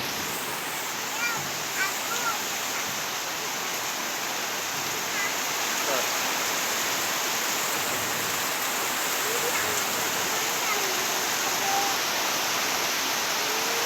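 Heavy monsoon rain pours down steadily as a dense, continuous roar that washes over the mango trees and pools into the yard, with faint voices and scattered small sounds underneath.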